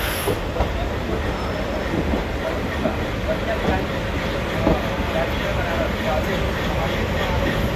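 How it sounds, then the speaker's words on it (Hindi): Train pulled by a WAG5 electric locomotive rolling into Varanasi yard, a steady close rumble of wheels and carriages with faint rail clatter running throughout. "ये वाराणसी के यार्ड में हम अभी इंटर कर रहे हैं। ट्रेन को हॉल कर रहा है WAG5।"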